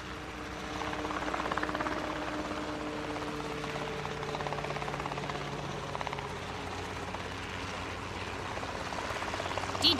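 A gyrocopter with a large propeller on top drones steadily overhead, its rotor and engine hum holding a constant low tone with little change across the stretch.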